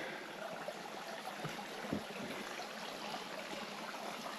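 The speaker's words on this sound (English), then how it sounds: "I've arrived at the first creek crossing." Steady, soft broadband rush of a small, low-water jungle creek at a hiking-trail crossing on Guam, continuous and fairly faint, with a couple of faint knocks partway through.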